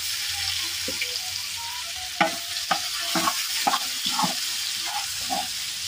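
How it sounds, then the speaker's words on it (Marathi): Hot oil sizzles steadily as mustard seeds, cumin, curry leaves and crushed chili temper, with sharp crackles and pops spitting irregularly, close up, with no voices. "फोडणीमध्ये तेलामध्ये चांगला तडतडून घ्यायचा"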